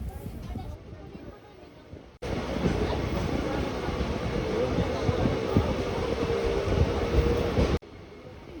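A suburban train leaving Boisar station on the Virar to Gholvad line, heard from on board as a loud, steady rolling rumble with rattling carriages, framed by quieter stretches at either end.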